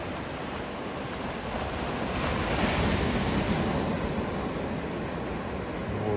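Surf washing onto a beach near the Forster Breakwall, a steady broadband roar that swells slightly in the middle, with some wind buffeting the microphone and no voices.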